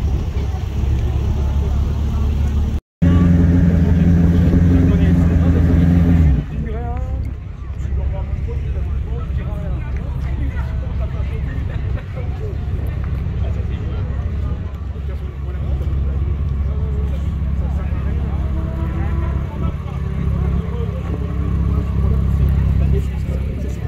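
Prestige cars on the Chambley race circuit, a loud engine roar throughout with a strong steady hum early on, heard from inside or close by as people talk over it.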